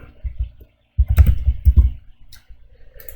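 Typing code on a computer keyboard: close, crisp key clicks in short bursts with a brief pause, then a denser flurry of taps, alone without talking.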